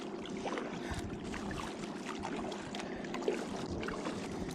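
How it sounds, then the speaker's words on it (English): Turbulent water in New York Harbor around a kayak, a steady close wash and slosh of choppy water with a few small splashes, heard alone without talk. "and turbulent water all around us."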